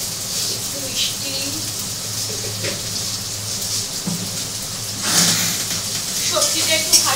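Vegetables frying in a pan at a home kitchen, a steady hissing sizzle with occasional clinks and stirring noises, under people talking.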